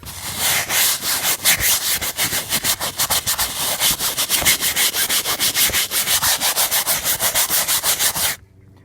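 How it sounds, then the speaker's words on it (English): A brush scrubs mold off an RV surface in fast, steady back-and-forth strokes, loud and close, each pass a harsh rasp, continuing without pause until it stops abruptly near the end. "So you should have a lot of luck getting a good deal of it off just from the scrubbing motion."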